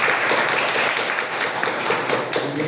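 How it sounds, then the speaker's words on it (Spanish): Audience applause at the close of a university lecture presentation, a dense, steady patter of many hands clapping at once, moderately loud throughout. "Muchas gracias. Aplausos."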